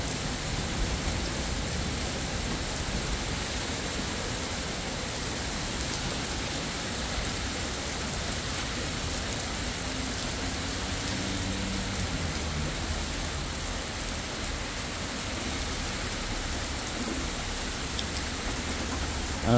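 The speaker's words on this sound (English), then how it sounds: "Definitely a good downpour though." Heavy rain pours down in a loud, steady downpour, a dense hiss of drops hitting surfaces that stays constant throughout with no voices or thunder.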